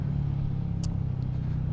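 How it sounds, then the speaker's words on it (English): Royal Enfield Meteor 350 single-cylinder engine with a balancer shaft idling in a smooth, steady low burble, close and even throughout, with a brief faint hiss midway. "this engine is just so smooth. You get a lovely burble, as you can hear."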